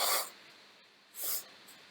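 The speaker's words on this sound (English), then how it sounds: "I have to blow my nose." A person blows their nose in two short, breathy bursts, the first at the start and the second about a second later, close and fairly loud with quiet pauses between.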